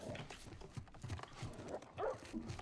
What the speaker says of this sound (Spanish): Es un perro.